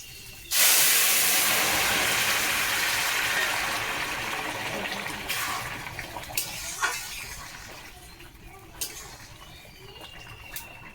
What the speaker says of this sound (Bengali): এখন সম্বরটা দিয়ে দেবো।